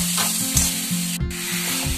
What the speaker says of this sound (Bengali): ভালো করে কষিয়ে নেবো মশলাটাকে আমি।